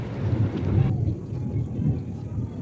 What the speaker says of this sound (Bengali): শুনছো মেঘের গর্জন?